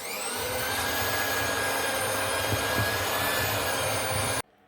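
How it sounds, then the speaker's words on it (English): Electric cake mixer creaming butter or margarine for cupcakes, a loud, close, steady motor whir with a high whine that cuts off abruptly just before the end. "let's add in our butter or margarine, and we are going to cream it with an electric cake mixture"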